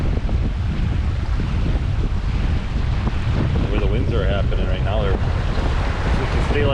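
Strong wind buffets a sailboat under way, a loud, continuous roaring rush with heavy low rumble, and a faint voice briefly rises beneath it partway through.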